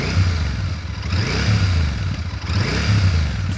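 A Royal Enfield Shotgun 650 with a 270-degree offbeat engine revs in close, loud swells. Its lumpy, throbbing exhaust note rises and falls about three times, with no talking.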